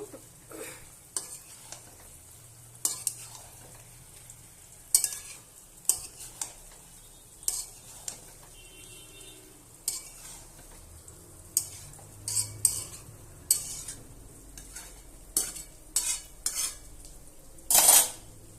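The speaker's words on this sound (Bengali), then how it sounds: "আমি আদা রসুন বাটা দিয়ে দেবো, একটু পরে দিলাম আদা রসুন বাটা। দিয়ে ভালোভাবে নেড়ে নেব।" Chicken with ginger-garlic paste, cooked with potato and pointed gourd, is stirred in a pan. Sharp metal scrapes and clinks arrive in irregular bursts over a faint, low sizzle.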